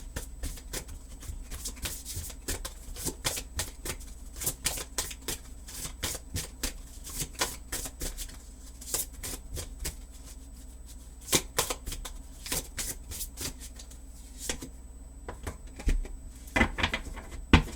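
A Spirit Animal Wisdom Oracle card deck being shuffled by hand, a rapid, close, papery riffle of card flicks that runs continuously with brief pauses.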